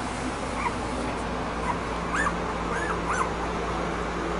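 A large newborn puppy from a litter gives a few faint, high whimpers and squeaks over a steady background hum, close by, with no talking.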